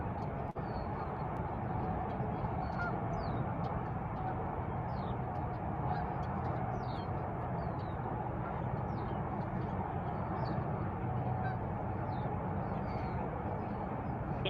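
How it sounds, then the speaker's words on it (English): Outdoor ambience at the Cosumnes River Preserve with steady low rumble and scattered bird calls throughout, including honking geese, fairly distant, no talking. "let you guys listen to the birds for a few minutes"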